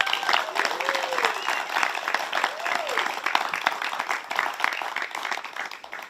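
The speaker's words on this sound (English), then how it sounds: "Let's give them one more round of applause." Audience applause at an awards night for safari guides, a full round of many hands clapping with some cheering, fairly close and steady throughout before it tails off at the end.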